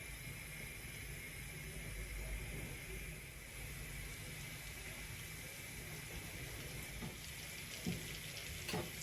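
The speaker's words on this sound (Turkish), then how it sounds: "Böyle tereyağı tam erimeden, yanmadan yumurtalarımı ekliyorum." Eggs frying in butter in a small pan, seasoned with red pepper flakes and salt, give a steady, soft crackling hiss that runs evenly throughout with a few brief clicks near the end.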